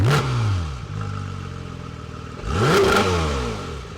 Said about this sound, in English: start it up so you can hear this amazing exhaust note that the GT3 has